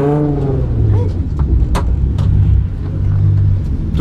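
A car being pushed to full throttle during drift practice, its engine revving hard and climbing in pitch close by, with people talking over the noise.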